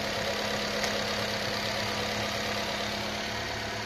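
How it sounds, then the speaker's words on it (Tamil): A Nissan Sunny car engine idles just after its throttle body was cleaned, a steady, even hum with a faint knocking texture, fairly quiet and unbroken with no voices. "த்ராட்டில் பாடி க்ளீன் பண்ணி இப்போ வண்டியை ஸ்டார்ட் பண்ணிட்டேன்"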